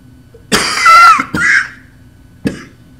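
Three sharp coughs from one person nearby, spaced apart with silent gaps between them, the first one slightly drawn out.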